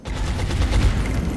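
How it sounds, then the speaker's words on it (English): A short, loud burst of weapon fire in XCOM: Enemy Within, heat ammo aimed at a mechtoid, heard on its own. "you are going to shoot at the mechtoid with heat ammo"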